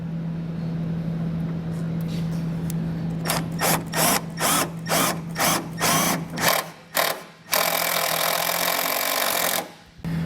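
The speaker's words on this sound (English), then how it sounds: "we'll take the self-tapping screw that comes in your kit and go ahead and attach it" A power drill drives a self-tapping screw to fasten a ground wire while installing a Roadmaster 4-diode universal wiring kit on a 2020 Chevrolet. Several short loud whirring pulses come first, then a sustained high-pitched run before it stops.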